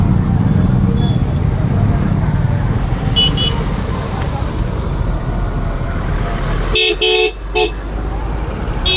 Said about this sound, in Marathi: कविताताई पवार यांच्या प्रचारार्थ या ठिकाणी रिक्षाची रॅली